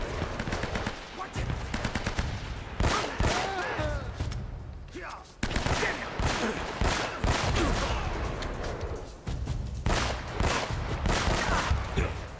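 Shotgun and other gunfire in the action game Uncharted: Drake's Fortune, a loud, sustained barrage of repeated blasts and rapid bursts with a brief lull midway, mixed with voices talking over the shooting.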